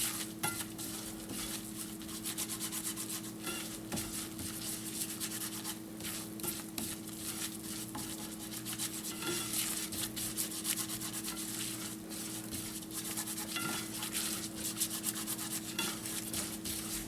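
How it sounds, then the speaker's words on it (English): Flour being stirred into melted butter in a pan, a steady soft scraping and rubbing of a utensil against the pan that carries on evenly and quietly under a low constant hum, with no one talking. "It's important that you keep stirring it, otherwise it will burn, and you don't want burnt butter."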